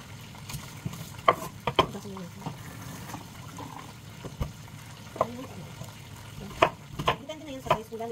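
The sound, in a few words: tilapia fish frying in a pan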